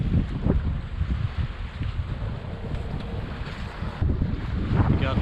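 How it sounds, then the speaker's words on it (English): A sailboat leaving La Paz under jenny, mainsail and staysail, with strong wind buffeting the microphone as a heavy rumbling roar, water rushing past the hull, and brief surges in loudness. "Now sailing with the Jenny, the mainsail and the staysail."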